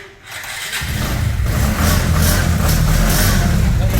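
A motorcycle engine starts up close by: a brief quiet moment, then a rough catch that settles into a steady, loud idle that lasts to the end.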